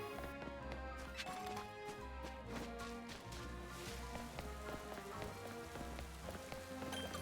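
In Pokemon Legends Z-A, rain falls in a continuous dense patter across the whole stretch, soft and even in level, with faint rhythmic clip-clop or step-like ticks under it.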